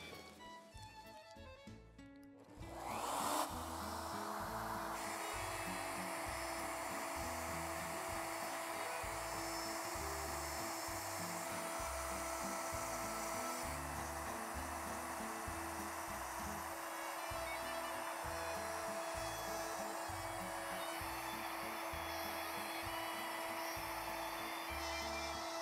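A wood router cuts a printed design into a pillow-shaped workpiece, whining steadily and loudly after a brief start-up, with a constant high-pitched motor tone and no talking.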